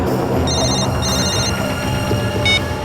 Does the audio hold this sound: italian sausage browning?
no